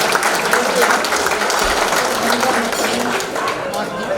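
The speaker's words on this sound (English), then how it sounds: "We'll give him a round of applause for that, ladies and gentlemen." An audience at an awards ceremony applauds steadily, a dense wash of clapping hands filling the room at an even, sustained level throughout.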